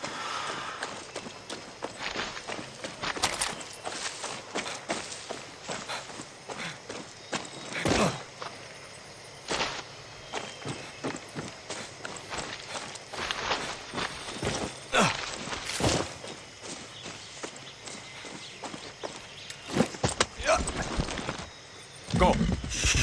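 Hooves of a horse in the video game Far Cry 6 clop in irregular bursts over a long stretch, close and moderately loud against a quiet background.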